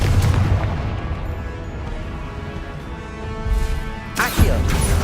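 Blasting spell explosions in the video game Hogwarts Legacy, dense booming bursts and crashes filling the combat, with a sharp loud blast near the end and faint talk underneath.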